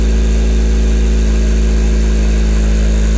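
A 2022 Honda Civic hatchback's L15B7 engine idling loudly and steadily up close on a cold start with an aftermarket downpipe, a constant low rumble with a droning hum and no change in pitch.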